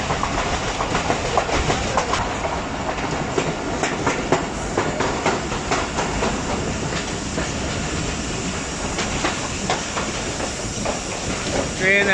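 Inside the Thall Express passenger train between Rawalpindi and Mianwali: a steady rumble and rhythmic clickety-clack of wheels on rails with faint hiss, continuous and close, while someone talks over it.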